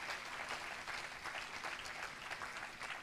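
A church congregation applauds, a dense steady clapping from many hands that is fairly faint and continues evenly for a few seconds.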